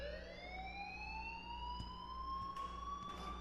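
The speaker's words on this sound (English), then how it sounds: "please turn off that alarm since that's your job." An alarm in a video game wails continuously, a rising electronic siren tone with steady harmonics and a constant low hum underneath, a few faint clicks breaking through.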